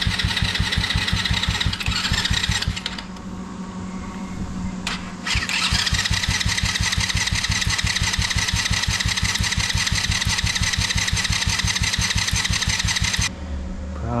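A small four-wheeler with no starter fluid cranks over and over without catching. The starter makes a rapid, loud, rhythmic chug that runs nearly nonstop, with a short pause near the start and again at the end.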